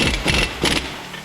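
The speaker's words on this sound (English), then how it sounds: "I like to put it on with the impact at first" An impact wrench spins an axle nut onto a 2009–2018 Ram 1500 during a wheel bearing replacement, drawing the CV axle into place: two short, loud whirring bursts close by, with a brief pause between them.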